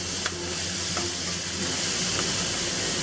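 Shrimp and seasoned sauce with sesame oil and Shaoxing wine are stir-fried in a pan for Sichuan dry-braised shrimp, a continuous close sizzle with a few scraping strokes and light clicks.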